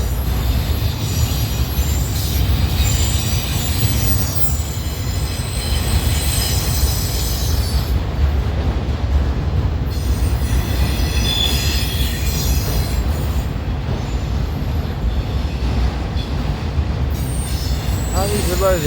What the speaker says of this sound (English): A CNW auto rack on the former CNW main line.